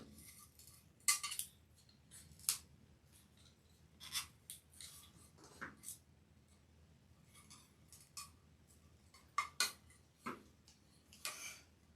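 Wire cutters snip through wreath picks in short, sharp clicks scattered across a quiet room, several separate cuts close by with pauses between.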